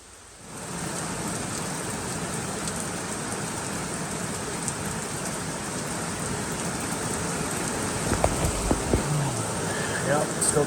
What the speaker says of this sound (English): That's a good soaking rain right there.